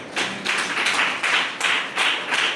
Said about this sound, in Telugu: అర్థమైతే చప్పట్లు కొట్టండి